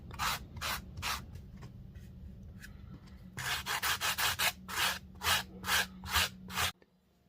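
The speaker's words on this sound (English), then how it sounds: "I sanded off the slip here" Hand sanding over a dried clay patch on a mended crack, heard up close as rhythmic rasping strokes. A few slower strokes come first, then a faster run of about a dozen before it stops.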